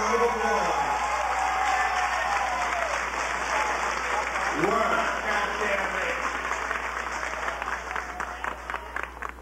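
Steady applause from an audience at a ballroom event honouring Jose and Andre, dense and sustained for the whole stretch with a few voices faintly under it, slowly tapering near the end.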